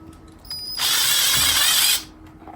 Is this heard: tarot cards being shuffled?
no